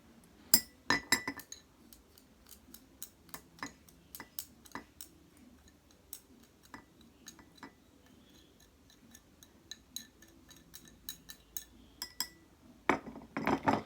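A spoon clinks repeatedly against a glass as salt is added to water for a science experiment, with bright, close taps coming in irregular bursts throughout.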